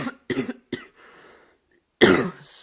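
A man coughs three times in quick succession, then gives a harsher, louder cough after a short pause, close to the microphone in a quiet room.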